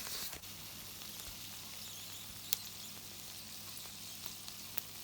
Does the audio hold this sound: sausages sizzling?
yes